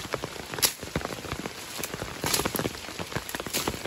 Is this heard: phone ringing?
no